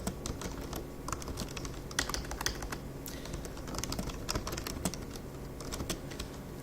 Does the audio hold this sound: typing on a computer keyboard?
yes